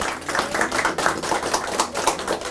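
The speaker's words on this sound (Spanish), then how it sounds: "aplauso a nuestro Señor que recibe toda la gloria" Congregation applauding during a church service, a loud steady patter of many hands clapping for a couple of seconds with no talk over it.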